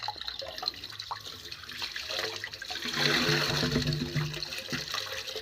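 Water gushes steadily from a pipe on a farm, a broad continuous rushing flow that swells louder midway, with no talk over it.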